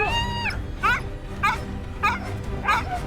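A dog barks and yelps repeatedly in short bursts about every half second, fairly close, over a low background rumble.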